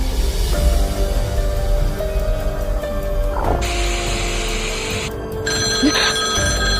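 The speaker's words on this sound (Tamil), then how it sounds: "இவங்களுக்கும் அதே மாதிரி ஒரு ஃபோன் கால் வருது. ஃபோனை அட்டன் பண்றாங்க." A telephone rings in a horror film scene, with repeated bell-like tones and electronic tones over a low background hum, loud and close, with no speech.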